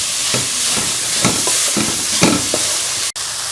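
Tomatoes fry in a pan for a tomato paratha masala, giving a loud, steady sizzle close up with repeated soft scraping stirs, and a brief sharp click near the end; no one speaks.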